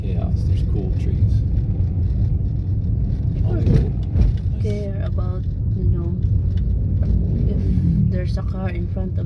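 Busy downtown street traffic in the Philippines, a steady dense rumble of car engines and passing vehicles heard from inside a car, with people talking over the continuous road noise.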